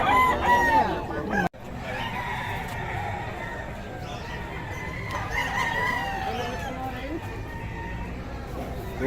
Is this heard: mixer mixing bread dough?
no